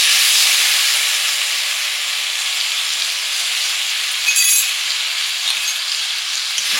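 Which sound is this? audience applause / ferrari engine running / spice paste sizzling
spice paste sizzling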